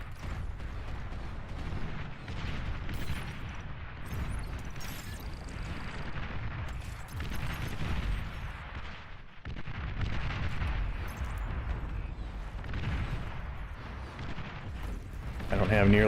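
Artillery fire in the real-time strategy game Beyond All Reason, continuous rumbling booms and blasts from a battle against walls and turrets, with someone talking over it.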